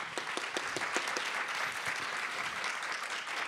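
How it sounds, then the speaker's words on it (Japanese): An audience at a Tokyo Game Show 2019 forum session applauds the speakers with steady, distinct handclaps that sound somewhat distant and soft. "登壇者の皆様に大きな拍手をお願いいたします"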